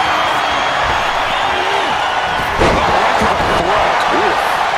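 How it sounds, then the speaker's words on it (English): A loud, raucous wrestling arena crowd roars and cheers at WWE Survivor Series War Games, a dense continuous wash of noise with sharp slam-like impacts from the ring cutting through midway. "What a raucous crowd here tonight."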